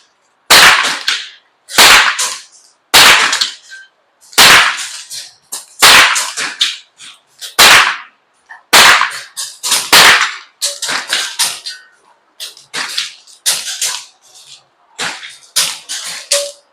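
Sharp shots from an FX air rifle at iguana targets 25 yards away, around a dozen cracks in an irregular rhythm, close and loud, with no talking between them.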